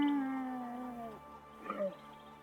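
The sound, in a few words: camel noises, from the video game Broken Roads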